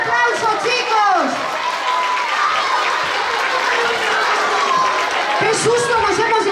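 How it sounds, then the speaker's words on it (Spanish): Loud applause from a talent-show audience fills the hall steadily, with cheers, excited voices and children's shouts mixed in throughout. "¡Un fuerte aplauso, chicos!"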